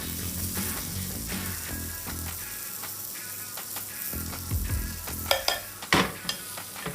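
Mushrooms sizzle softly in a hot pan while being stirred and spread out, a steady low frying hiss broken by a few sharper scraping and clacking knocks near the end.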